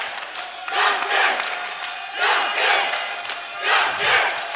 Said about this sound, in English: You can hear from the crowd here, Rob, they're getting behind these fighters.